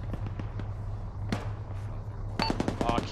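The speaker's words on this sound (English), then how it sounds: "I'm hearing shots in town to the south" Distant gunfire in an ARMA 3 infantry battle, with scattered faint pops and cracks and a quick burst of several shots near the end, all over a steady low hum of radio or engine noise.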